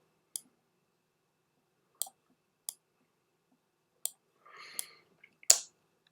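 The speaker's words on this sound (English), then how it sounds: "Let me just double click on this." Computer mouse clicks: several sharp, isolated clicks spaced irregularly at close range against near silence, with a brief soft rustle between them.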